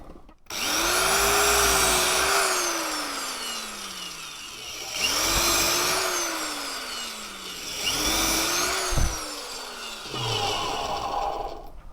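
A power drill whines in three long bursts while drilling holes in a kukri knife blank, its pitch rising then sagging under load as it bites through material, with brief pauses between runs.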